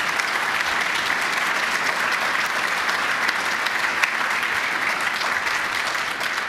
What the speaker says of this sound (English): Let's have a round of applause for Allison.